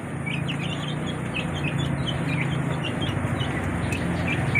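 Native chickens give faint, scattered clucks and chirps over a steady low background hum. No one speaks.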